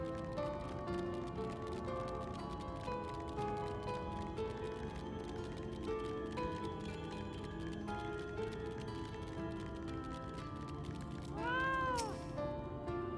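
A fat cat mount in Final Fantasy XIV meows once near the end, a short bending cry over a continuous bed of game music and ambient sound.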